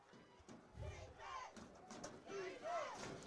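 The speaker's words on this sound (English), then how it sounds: "Crowd is into it." Faint, distant crowd noise at a high school football game between Sylvan Hills and Jonesboro, with scattered shouts and calls rising and falling over a low murmur.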